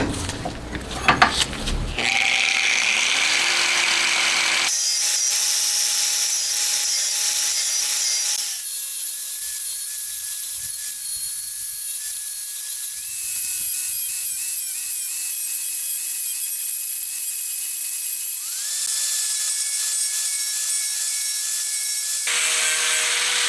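Rotary grinding tool cutting away metal on a homemade DOHC cylinder head for an FIM152 engine to clear a bearing, a loud, close, high whine in sustained bursts with pitch shifts as the bit loads and frees.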